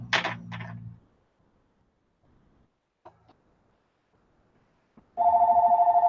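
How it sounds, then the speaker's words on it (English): A house telephone rings in a quiet room, with a short burst of ringing at the start, then near silence with a few faint knocks, then a loud steady electronic ring that returns and continues to the end. "Oh, sorry about the phone, guys. That is the house phone"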